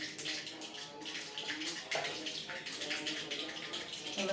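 Large onions hiss and sizzle loudly in hot oil in a pan after mustard seeds have popped, a steady broadband crackle with a few scraping stirs.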